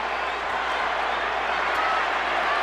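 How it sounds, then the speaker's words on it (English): A boxing arena crowd at a Manny Pacquiao versus Joshua Clottey fight roars as a steady, dense wall of cheering and murmur, loud and continuous throughout. "The crowd have really got into this"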